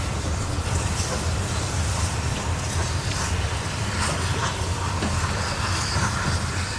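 A steady, loud rumble of a train rolling past close by at Market Bosworth on the Ashby Canal, with continuous rail noise and faint rattling throughout.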